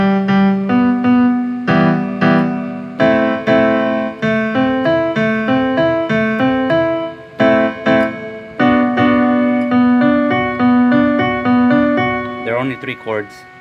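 Piano plays three simple repeating chords from a house track, with rhythmic stabbed voicings, clear and close, sustained notes ringing between strikes and no voices.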